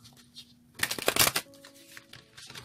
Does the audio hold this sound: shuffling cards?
yes